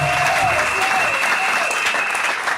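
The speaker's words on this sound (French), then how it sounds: "Applaudissons encore pour les fidèles pasteurs pour Jésus" A church congregation applauds its pastors at the opening of a mission centre, dense steady clapping filling the room with a sustained tone and a voice faintly underneath.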